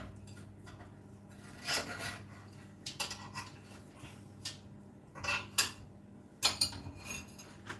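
A knife scraping and tapping along the edge of a pan in a home kitchen, with scattered irregular metallic scrapes and clinks, fairly quiet and close, no talk.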